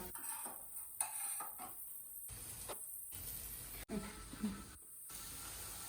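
Fried brinjal being shifted from a pan into another vessel, with scattered scraping and clinking of a spoon and utensils against metal, moderately close, with no talk.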